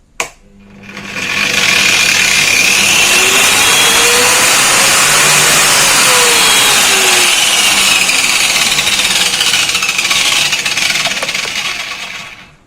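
An Einhell wall chaser spins up with a click and a rising whine, then runs loud and steady for several seconds at close range before winding down, with no talk.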